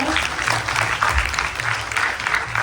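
Steady audience applause at a Ganesh Chaturthi Utsav gathering in a temple setting, many hands clapping together for about three seconds over a low hum, with some faint crowd murmur underneath.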